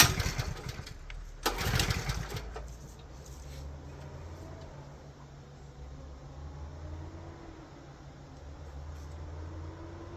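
A gasoline post hole digger engine, choke and gas on, sputters through a brief loud start-up burst and then settles into a low, steady idle rumble, close and alone.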